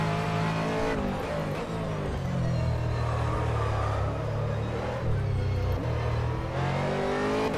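Aston Martin race car lapping Silverstone in rFactor 2, its engine droning loudly and steadily with shifting pitch as it is forced through a corner, held close and continuous throughout.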